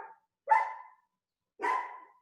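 A dog barks twice, close and fairly loud, with two sharp separate barks about a second apart and silence between them.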